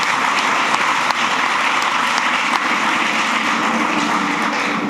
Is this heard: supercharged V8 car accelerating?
no